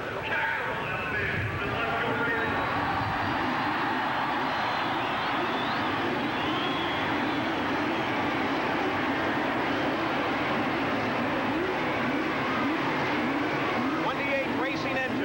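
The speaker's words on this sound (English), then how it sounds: "Gentlemen, start your engines." Loud, dense roar of many race car engines starting and revving together at the 1985 CART Long Beach race, a continuous wall of motor noise that barely changes throughout.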